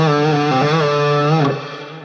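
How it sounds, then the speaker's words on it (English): Electric guitar run through Wampler and Strymon distortion pedals, a sustained, harmonically rich distorted chord with a pitch bend near the end before it fades slightly, played alone without talk. "We can also add distortion to that."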